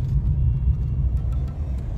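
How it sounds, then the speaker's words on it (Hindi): Low, steady rumble of a car's engine and road noise heard from inside while driving through a quiet town near Tarn Taran, constant and fairly loud with no talk. "सिर्फ हमारी गाड़ी का शोर है और कुछ नहीं है।"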